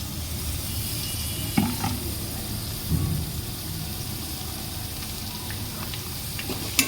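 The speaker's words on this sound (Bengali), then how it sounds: "এবার চিংড়ি মাছ কটা দিয়ে দিচ্ছি" Prawns sizzle as they fry in a cooked-down spice paste for a prawn and pointed gourd malai curry, with a steady hiss, stirring scrapes and a couple of louder clacks near the pan.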